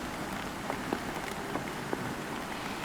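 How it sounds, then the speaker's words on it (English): Heavy rain pours down at a glacier in Iceland, a steady broadband hiss with scattered louder drops and patters, constant and fairly close throughout with no talking. "It started coming down raining really hard"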